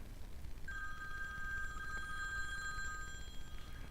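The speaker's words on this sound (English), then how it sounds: "It's my phone." A mobile phone rings with a steady electronic tone that lasts about three seconds, clear and fairly close above a low background hiss.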